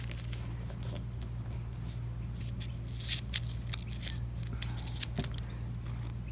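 Scissors snipping through folded masking tape in a quiet room, a series of light crisp cuts with one sharper snip near the end, over a steady low hum.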